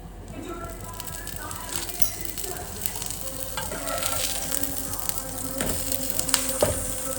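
Pav bhaji ingredients fry in butter or oil in a pan, a steady close sizzle with occasional stirring scrapes and clacks throughout.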